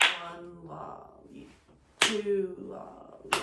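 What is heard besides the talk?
rhythm clapped back by hand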